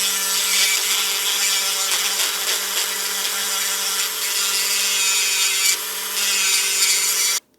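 A rotary tool grinds away a marked section of the side plate on a Kyosho Javelin RC car, a steady, loud, high-pitched whine that runs continuously close-up for about seven seconds before cutting off abruptly.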